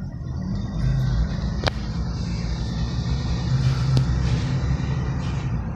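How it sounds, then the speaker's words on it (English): A big scrap truck rumbles by at a steady distance, a low continuous engine drone with a couple of sharp clanks from its load, no talking over it. "That's a big scrap truck."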